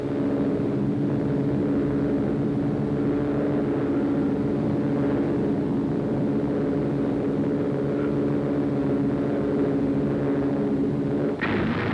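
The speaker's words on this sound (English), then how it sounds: "Transports, bombers, and fighters, together winging their way aloft." Transport, bomber and fighter aircraft of World War II flying together, a steady, loud, droning engine rumble that carries on unbroken throughout.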